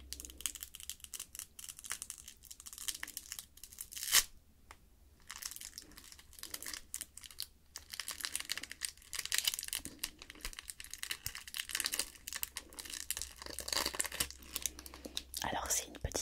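Close, crisp crinkling and tearing as a plastic wrapper is peeled off a small fruit jelly candy, with soft irregular rustles over a quiet background.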